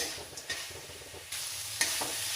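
Kuche fish are stir-fried in a hot spice paste, a soft steady sizzle broken by a few scraping stirs of the spatula, fairly quiet throughout.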